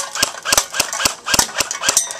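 Rapid string of sharp, loud snaps from an M14 airsoft sniper rifle, roughly a dozen cracks in an uneven rhythm, close up and with no voices.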